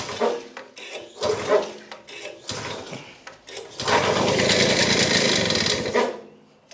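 A Victa two-stroke go-kart engine under restoration is pull-started, with several short rasping rope pulls. The engine then catches and buzzes loudly for about two seconds before cutting out.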